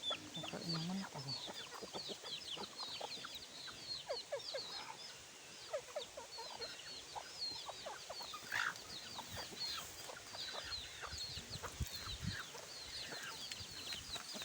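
Chickens cluck and chatter nearby in a busy, irregular stream of short calls, with faint rustling and background noise.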